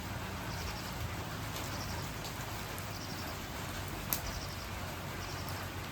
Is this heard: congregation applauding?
no